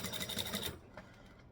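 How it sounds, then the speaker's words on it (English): A sewing machine stitches slowly in a rapid, even mechanical rattle for about three quarters of a second, then stops, leaving faint room noise. "Sewing this slow, I'm less likely to pick up the noise of it not actually stitching"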